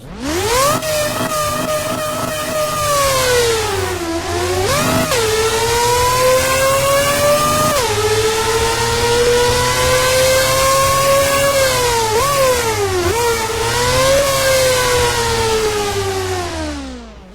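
A Mazda rotary race car in a Roblox driving game screams close and loud through sustained high revs toward 13,000 RPM, with two brief dips and quick recoveries around the middle and near the end, no voices.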